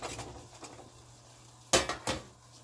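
Shrimp are stirred in a pan for fajitas: a quiet scraping start, then two sharp metallic clanks of utensil against the pan close together near the end, with a faint hum beneath and no talking.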